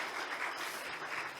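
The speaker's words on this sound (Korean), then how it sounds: "우리 다시 한번 박수로 감사해 드리겠습니다." A church congregation at Sunday worship claps in thanks after the pastor's sermon, a brief, fairly quiet patter of steady applause.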